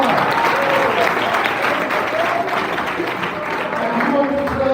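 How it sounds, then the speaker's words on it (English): An indoor audience at a live wellness event claps steadily for several seconds, a dense, even patter of many hands at moderate volume with faint voices mixed in. "Can you clap for her?"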